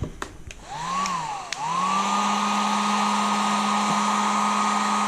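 A heat gun blows on vinyl graphics on a Honda CR125R dirt bike, with a few clicks as it switches on, then the motor winds up into a loud, steady, close-up whirring hiss that continues without speech.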